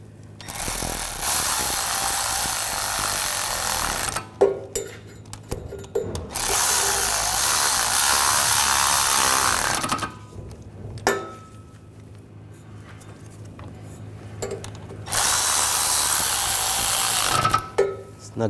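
A power tool driving in the axle bolts on a Buick Encore rear CV axle, three long loud whirring bursts separated by quiet gaps with small clicks and handling noises, close up with no talking.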